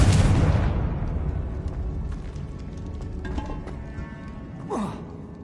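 A Confringo blasting spell in Hogwarts Legacy sets off a loud, close explosion at the start, and the boom fades into a long, decaying rumble with faint debris clatter and a small burst near the end.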